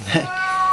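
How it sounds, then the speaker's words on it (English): A single cat lets out a short, loud meow close by, a brief drawn-out call lasting under a second. "Kitty's hollering."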